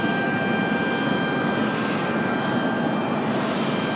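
A Delta Airbus A220 jet from Boston roars at an airport in a steady, loud engine drone that holds without a break.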